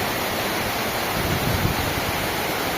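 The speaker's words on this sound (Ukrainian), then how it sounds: "чудовий водоспад, який знаходиться" A waterfall in Zakarpattia, Ukraine, gives a loud, steady broadband roar of rushing water that fills the whole clip with no voices.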